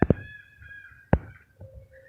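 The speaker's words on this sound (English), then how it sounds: "See the birds right there along with the chickens." Birds calling alongside chickens outdoors, a few short, harsh caw-like calls in quick succession, then a pause and another loud call, with faint tonal squawks trailing after.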